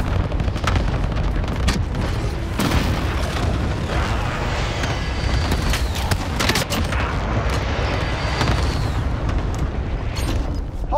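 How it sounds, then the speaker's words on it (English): Cluster strike explosions in Call of Duty Modern Warfare roll through as a continuous barrage of loud booms and sharp blasts, layered with gunfire and battle noise for the whole stretch, with no talk. "Allied cluster strike inbound."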